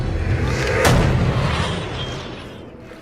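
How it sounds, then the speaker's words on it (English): A tank fires a missile in the Atari video game Combat, a single loud, rumbling noise burst that swells and then slowly fades. "When you shoot a missile, it goes straight, and you're in an easy maze."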